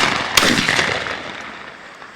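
A single sharp shotgun blast during a dove hunt on a wet field in Mississippi. It is close and loud, with a sudden crack followed by a decaying outdoor echo.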